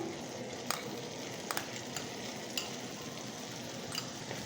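Cream being stirred into cooked spinach in a pan over a low flame for palak pasta, heard as a steady soft sizzle with a few faint scraping clicks of the spoon, no voices.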